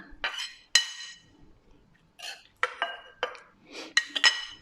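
Salt and garlic are pounded in a mortar for an Isan-style eggplant chili dip. The pestle strikes land as sharp, ringing knocks in an irregular rhythm, close and fairly loud, with brief quiet gaps between blows.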